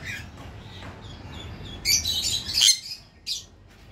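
Small birds in an aviary chirp and squawk in scattered bursts, close and fairly loud, with a busy flurry of calls in the middle and quieter moments between.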